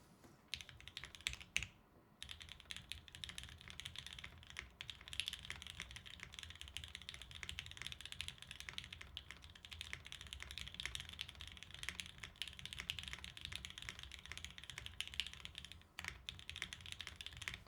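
Clacky keys on a custom mechanical keyboard built without the interior silicone layer, typed in a steady fast stream of close, crisp clicks for the whole stretch with one brief pause near the start.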